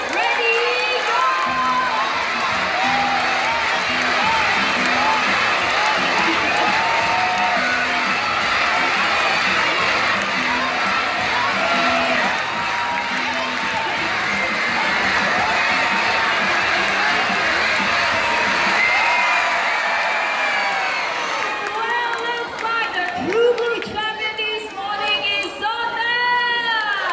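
A crowd of spectators cheers, shouts and claps at a macaw bird show in a park, loud and sustained for over twenty seconds before thinning out, with a presenter's voice and scattered shouts near the end.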